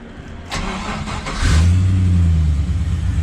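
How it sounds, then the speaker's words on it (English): A Nissan Patrol GU fitted with an LS1 V8 cranks briefly, then catches and settles into a deep, loud, steady idle, heard close up with no talking. "Actually, let's fire it up because it's been 2 weeks."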